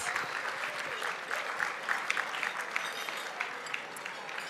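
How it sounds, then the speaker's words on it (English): Audience applause at an awards gala: sustained clapping from a large room crowd, steady and even throughout with a few sharper individual claps standing out, moderately distant and without talk over it. "Give them a round of applause."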